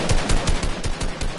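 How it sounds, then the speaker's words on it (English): Rapid automatic gunfire in a video game, a dense burst of shots fired in quick succession, loud and close with no voices. "just start shooting like nothing."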